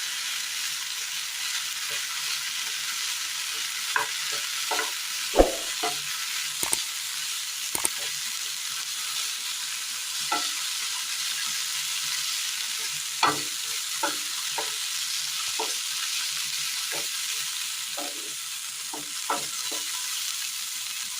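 Boiled beans and carrots sizzle and hiss in a hot pan while a spoon scrapes and stirs with scattered clacks, steady and close.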